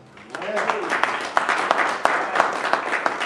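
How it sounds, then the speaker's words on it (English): A congregation at a church seminar claps in praise: sharp, scattered handclaps build into a loose, irregular patter under excited vocal shouts. "I need somebody to give our God a hand clap of praise."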